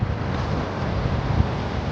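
Ocean surf breaking along a shore in the Philippines, a continuous broad roar of waves mixed with heavy wind buffeting the microphone, close and loud with no voices.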